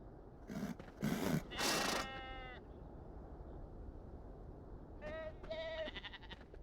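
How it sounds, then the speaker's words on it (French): Sheep bleat in the video game Beyond Two Souls, a few loud wavering bleats close together at the start, then quiet, then two or three shorter bleats near the end over a faint background hiss. "Pourquoi j'ai l'impression qu'il y a toujours un mouton qui dit ta gueule?"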